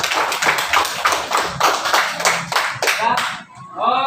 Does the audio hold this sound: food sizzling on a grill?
no